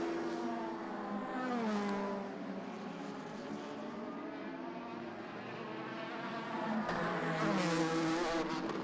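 A circuit race car laps the track, its engine a rising and falling harmonic whine as it accelerates and shifts through the gears, heard at moderate distance and growing louder near the end.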